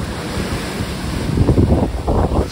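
Ocean waves crash and wash onto a winter shore, a loud continuous roar of surf with heavier swells building near the end, mixed with gusty wind buffeting the microphone.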